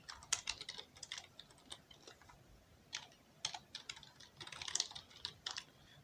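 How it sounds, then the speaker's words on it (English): Quick, light typing on a computer keyboard in a terminal, faint bursts of clicky keystrokes in irregular clusters with short pauses between them, heard alone without speech. "just type npm install Frame Motion"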